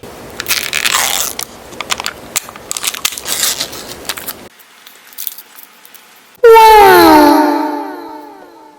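Crunchy bites and chewing on a Chobani Flip Cookies and Cream yogurt snack, close and loud for several seconds, followed by a sudden loud, wavering moan-like sound.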